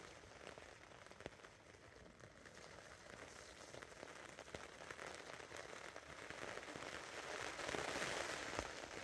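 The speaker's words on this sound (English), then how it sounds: "I'm sure you can hear the rain. So pelting it down." Heavy rain pelting down outdoors on the Menai Straits shore on Anglesey, a dense, steady patter of crackling drops hitting a shelter and surrounding surfaces, growing slightly louder toward the end.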